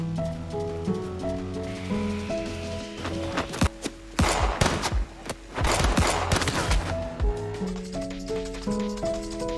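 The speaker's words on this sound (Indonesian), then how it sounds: "mereka tembak-tembakan dengan Chisato dan Mahiro" A film gunfight plays out as sharp bursts of gunshots and rapid fire, loud and close, cutting in among sustained music chords that run before and after the shooting.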